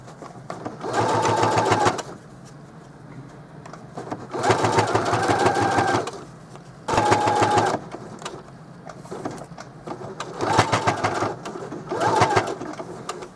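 A sewing machine stitches a pouch made from a placemat, running in steady whirring bursts of one to two seconds separated by short pauses, loud and close with no talking.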